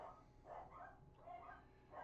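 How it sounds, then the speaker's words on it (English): Several dogs bark in repeated bursts at a mail carrier, five or so rough yelps spread over two seconds, somewhat distant and fairly quiet with no talking. "Listen to them dogs."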